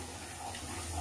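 A milk and water mixture is poured into a cooking pan in a short, soft, continuous trickle that stays quiet and close.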